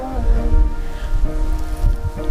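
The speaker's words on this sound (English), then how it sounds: "Straight up ice rain." Freezing ice rain falls on a desert route among ancient trees, a dense steady patter of pellets hitting surfaces close by, continuous and fairly loud.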